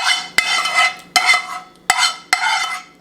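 Black cherry sauce, reduced with cinnamon, nutmeg and vanilla, sliding into a bowl and being stirred, a close wet scraping swish repeated in four even strokes, each opening with a sharp utensil tap against the bowl.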